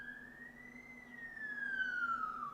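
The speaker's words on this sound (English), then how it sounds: "There's also sirens outside." A faint emergency siren wails outdoors in the distance, a single rising and slowly falling tone over a low background hum.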